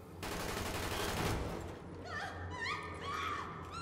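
Gunfire from the video game Tom Clancy's The Division: a dense, loud burst of rapid shots for about a second and a half, followed by ringing, warbling tonal effects and lingering rumble.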